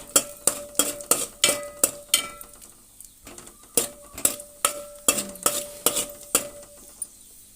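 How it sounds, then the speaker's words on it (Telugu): Cashews and almonds fry in a hot pan while a metal spoon stirs and scrapes them in a brisk, regular rhythm of sharp clinks, close and fairly loud, with a soft sizzle underneath. "జీడిపప్పు బాదం పప్పు వేస్తున్నాను దీన్ని మనం ఫ్రై చేసుకుందాం"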